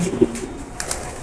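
Male racer pigeons sitting in a loft chamber after their morning feed give soft, low coos, a couple of short murmured calls close by with light background rustle.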